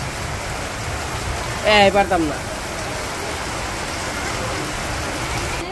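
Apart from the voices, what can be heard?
rain falling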